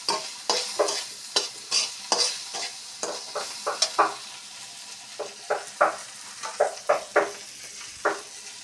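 Spices, chopped onion and a whole garlic frying in a pan, with a close sizzle under repeated, regular spatula stirs scraping the pan.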